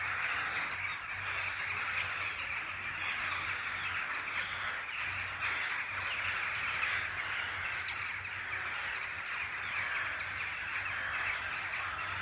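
Crows cawing amid a dense, steady wash of outdoor ambience near Jedburgh, Scotland, the calls blending into a constant noisy background.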